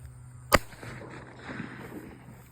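A 2-inch to 2.5-inch PVC bird-scaring cannon fires once, giving a single sharp, loud boom that fades into faint outdoor background noise.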